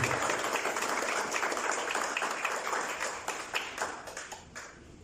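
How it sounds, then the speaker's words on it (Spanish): A church congregation claps during a Christian sermon, a full burst of applause that thins toward the end into scattered, separate claps fading away. "Dele un fuerte aplauso al Rey de Reyes y Señor de Señores"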